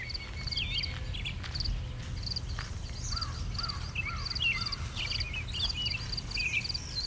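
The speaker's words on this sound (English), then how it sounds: "It's always nice to get out and stroll around the property early in the morning, get to hear some birds," Crows caw repeatedly around a property in the early morning, with scattered calls of other birds at moderate distance over a faint, steady background of insects and frogs, no talk present.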